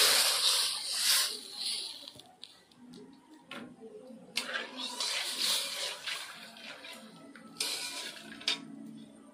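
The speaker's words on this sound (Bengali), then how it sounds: "এবার আমি কড়াইয়ের মধ্যে এক বাটি দুধ দিয়ে দিচ্ছি।" A bowl of milk is poured into a wok, starting as a loud, splashy rush and then breaking into softer spatters and trickles with occasional clatters.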